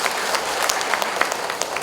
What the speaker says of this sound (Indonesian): silakan lansia tepuk tangan